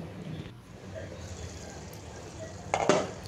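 A lid is set on a pan of cucumber and tomato curry cooking on the stove, giving a short clatter near the end of a low background hiss.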